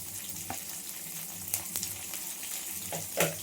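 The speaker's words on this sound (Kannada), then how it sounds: "ಹಾಕೊಂಡು ಫ್ರೈ ಮಾಡ್ಕೊಳ್ಳಿ." Green chillies and a large onion with curry leaves sizzling steadily in a pan for tomato rice, a soft continuous frying hiss broken by a few brief stirring clinks.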